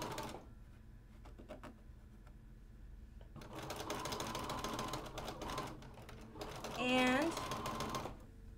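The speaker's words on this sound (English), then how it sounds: "we are going to sew our seam allowance here, good 1/4 inch, like we have been." Sewing machine stitching a quarter-inch quilt seam, a steady mechanical whir running through the middle of the clip at close range, with brief speech and a short squeak near the end.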